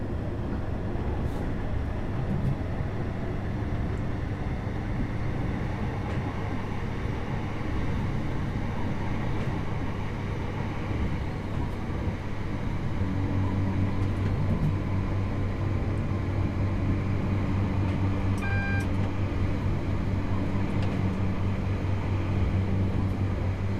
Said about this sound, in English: This is a mod sound that I got as well, by the way, folks.